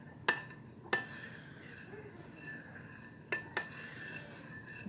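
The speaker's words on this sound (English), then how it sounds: "Just going to stir that around and get that honey completely good and mixed with the water." A spoon stirring honey into water in a bowl for focaccia dough, a few sharp clinks against the bowl spaced apart over quiet faint swirling.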